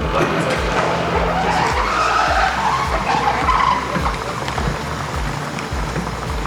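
Tesla Roadster pulling away with tires skidding and squealing, a loud, close rush of tire noise over a low engine whir, fading slightly toward the end.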